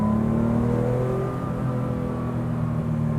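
Air-cooled 2.7-litre flat-six of a 1972 Porsche 911 Carrera RS climbing quickly and smoothly through the revs, a steady, loud engine note with rising harmonics throughout, no voices.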